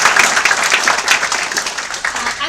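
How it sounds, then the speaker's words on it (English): A conference audience at a startup accelerator launch applauds the new founders, a burst of lively, close clapping that stays loud for the whole brief stretch. "So another round of applause for them."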